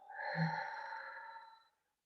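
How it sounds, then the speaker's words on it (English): A single long, slow exhale during a calming breathing exercise, soft and close, easing out over about a second and a half before fading into silence. "Long and slow breaths."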